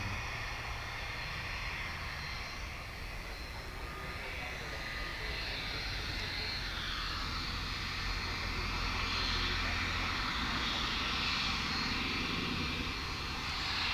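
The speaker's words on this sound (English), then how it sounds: "we'll be transfixed for a little bit by this incoming 757" A Boeing 757 airliner approaching DFW International Airport at night produces a steady, broad engine roar that swells gradually as it nears, with no talking.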